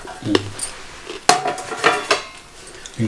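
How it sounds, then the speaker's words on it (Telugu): A pan of onions, garlic, curry leaves and chopped green chillies being tempered in a home kitchen, with sharp metal clanks of a spoon against the pan and faint sizzling, close and without speech. "వెల్లుల్లిపాయలు కరివేపాకు కొంచెం పచ్చిమిరపకాయలు చిన్న కట్ చేసుకొని వేసేసుకొని పోపేస్తా"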